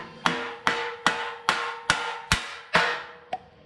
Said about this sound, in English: give them a couple taps with a rubber mallet